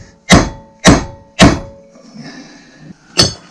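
A hammer drives a new wheel bearing into the hub of a Hobby 540 caravan, with four loud metallic strikes spaced about half a second apart and a pause before the last.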